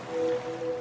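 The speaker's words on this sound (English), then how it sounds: "now you're drifting asleep to the scent and sound of waves" Soft wave and surf wash used as a sound effect in a laundry detergent advert, a steady airy rush with a faint thin tone running through it, brief and fairly quiet with no talking.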